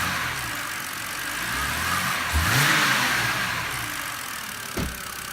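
A car engine idles quietly, then is revved once, swelling into a louder roar before settling back, with a second brief blip near the end; engine alone, no talk.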